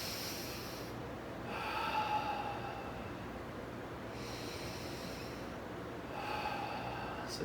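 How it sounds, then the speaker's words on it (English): A slow, deep diaphragmatic breath drawn in through the nose, heard close as soft airy inhalations that swell and fade in a few separate waves. "So deep breath in."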